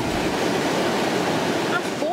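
Floodwater rushing after a dam burst in rural Aracanduva, in Minas Gerais' Jequitinhonha Valley, tearing away vegetation and banks; a steady, dense roar of torrent runs throughout, with a voice speaking over it.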